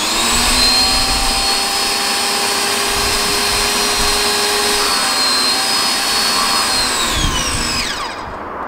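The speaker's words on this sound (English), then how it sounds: "it's an electric pressure washer, 1600 PSI unit" Budget electric 1600 PSI pressure washer motor running: a loud, steady whine with strong tonal hum held close, then winding down near the end as the motor cuts off.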